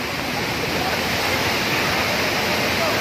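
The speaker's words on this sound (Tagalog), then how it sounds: "First time namin dito sa Taytay Falls." Taytay Falls waterfall in Majayjay, Laguna gives a loud, continuous broadband roar of falling water that stays steady throughout, with no breaks.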